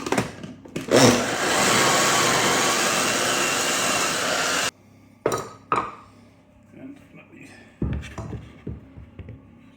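A food processor whirs steadily as it chops ginger and garlic, a loud continuous grinding drone lasting several seconds that stops abruptly. It is followed by sparse clunks and knocks of the lid and bowl, with a voice speaking briefly.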